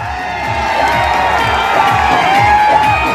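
A large crowd at a Samajwadi Party election rally in Sarai Mir, Azamgarh, cheers in a loud, unbroken roar with shouts rising through it and some clapping mixed in.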